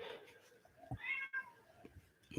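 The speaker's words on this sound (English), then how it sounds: "fun cat that's like going crazy in the background" A cat yowls and meows in the background of a room, the cries fairly faint and intermittent rather than close.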